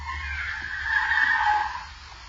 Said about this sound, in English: And then the car screeches off.